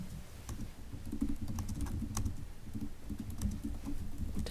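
Keys clatter in quick, irregular bursts as someone types on a computer keyboard during a council meeting, faint against a low room rumble.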